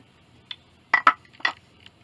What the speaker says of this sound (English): I'm just going to mix it around